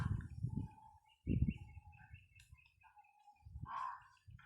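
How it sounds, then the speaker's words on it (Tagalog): A crow calls a few times near a seaside spot, short, faint, harsh cries spaced apart against a quiet background. "May uwak pala dito mga idol."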